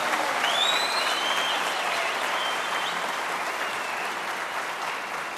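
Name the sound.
audience applause at political rally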